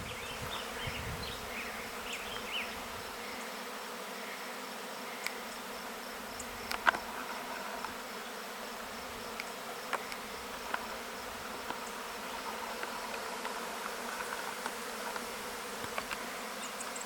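Honeybees buzz in a dense, continuous drone around homestead hives during a cleansing flight, with a few louder bees passing close through the steady hum over about seventeen seconds.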